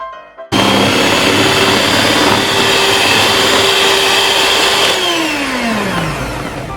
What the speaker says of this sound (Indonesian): Kita mixer sampai mengembang, putih, kental, dan berjejak.